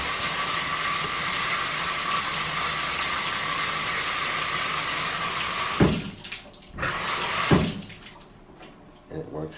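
Water pours steadily from a single-handle bathtub faucet, a loud, continuous rush that fills the first six seconds. It then breaks into a few short bursts and sputters before fading.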